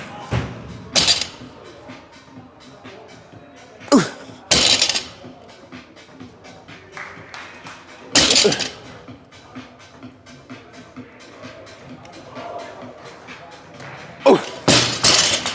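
A 315-pound barbell deadlift in a gym, with four heavy thuds as the loaded plates hit the floor at irregular intervals, plus clanks and quieter shuffling between reps.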